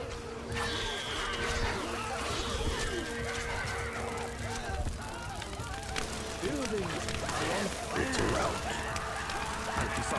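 Horse neighing and whinnying in the Stronghold: Crusader medieval strategy game, heard over continuous battle ambience with hoof clip-clop and spoken game dialogue.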